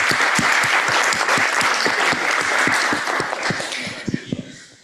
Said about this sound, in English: a round of applause for you, please